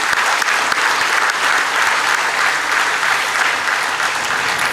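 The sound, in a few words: audience applause for graduating students at award ceremony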